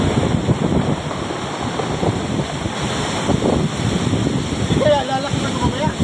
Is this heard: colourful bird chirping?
no